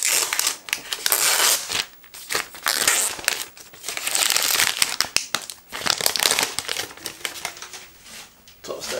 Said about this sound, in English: Let's go ahead and take this thing out the plastic.